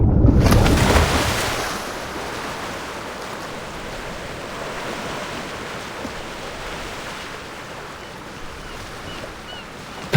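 Ocean waves wash steadily at the sea's edge at sunset in the video game Love and Deepspace, a broad continuous surf that starts loudest and settles into a constant hiss, with no voices.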